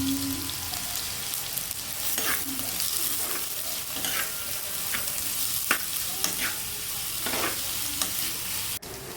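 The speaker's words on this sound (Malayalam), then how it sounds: "ഞാൻ സവാള ഇട്ട് കൊടുക്കുകയാണ്" Chopped onions fry with a steady sizzle in a pan while a spoon stirs and scrapes at intervals, close and continuous with no voices.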